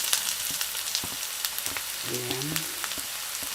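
Garlic sizzles in a hot pan for a sardine and calamari dish, a steady broadband frying hiss with scattered crackles and pops, close up, with a brief spoken word and a short tonal sound partway through.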